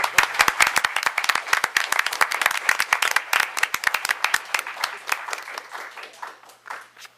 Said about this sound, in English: I think you all deserve applause for that